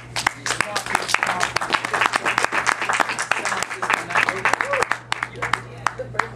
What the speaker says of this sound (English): Y'all gotta clap it up